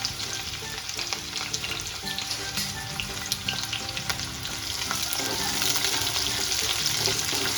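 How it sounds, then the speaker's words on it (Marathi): Onion frying in a hot iron kadai until brown, a dense, loud sizzle throughout with frequent stirring scrapes and ticks, growing slightly stronger toward the end, no speech. "थोडासा व्यवस्थित एकदम अगदी असा ब्राऊन कलरवर कांदा भाजून घ्यायचा आहे।"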